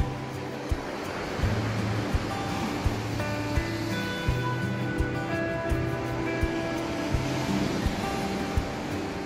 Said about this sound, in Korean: 밀려오는 파도